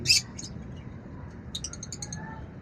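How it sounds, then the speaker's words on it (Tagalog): Caged birds in an outdoor aviary give short, high chirps: a sharp call at the start, another soon after, then a quick run of faint tweets, all over a low background hum. "Itong mga ibon natin na nakasurvive mga idol"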